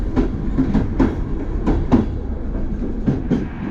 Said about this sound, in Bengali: শহর ছাড়িয়ে ছুটে চলেছে ট্রেন,